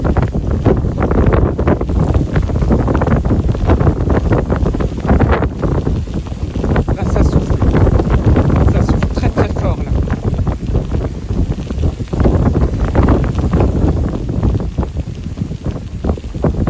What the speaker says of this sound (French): forte rafale de vent là.